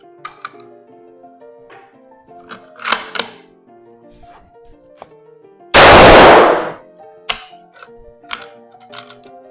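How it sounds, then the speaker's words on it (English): A single loud, sharp rifle shot from a rifle rechambered to Ackley Improved, fired on a test bench, bursting out alone between quiet mechanical clicks and handling noises. "before you go and test fire it the first time"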